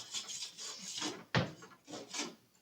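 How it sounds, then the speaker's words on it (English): A sharp scraper drags across the hull of a budget aluminum surf boat being restored from rust, giving repeated rasping strokes with a sharp knock in the middle, close and fairly quiet. "It's sharper, so it scrapes."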